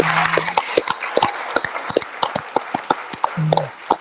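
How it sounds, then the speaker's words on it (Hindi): Scattered claps from a small rally crowd, uneven and separate rather than a full ovation, with a few brief murmurs mixed in. "शहबाज भाई जरा तालियां बजाएं"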